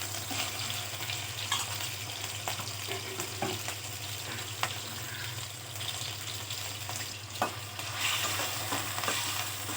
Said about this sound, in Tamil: சிக்கன் வந்து நம்ம எண்ணெயில் ஆட் பண்ணும்போது கொஞ்சம் தெளிக்க தான் செய்யும்.